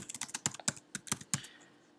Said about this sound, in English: So what I'm going to do now is type in lorem ipsum.